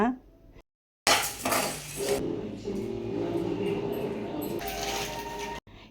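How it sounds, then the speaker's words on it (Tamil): Urad dal is dry-roasted in a pan and stirred, with dry grains rattling and scraping against the metal in a dense, close, continuous clatter. "ஒரு டம்ளர் உளுந்து போட்டு வதக்கிக்கிறேன்"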